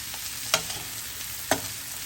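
Bacon and fried cabbage are stirred together in a hot pot, giving a continuous sizzling hiss and two distinct scraping clacks from the spoon, with no one speaking.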